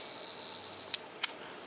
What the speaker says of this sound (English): we can let you listen to the shutter here.